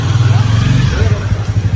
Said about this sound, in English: Military on motorcycle.